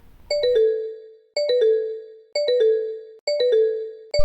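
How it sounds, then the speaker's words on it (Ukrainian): A repeating electronic ring tone, four identical chime phrases evenly spaced, clear and loud with nothing else around it. "Вибачте, друзі, але здається, мені хтось телефонує."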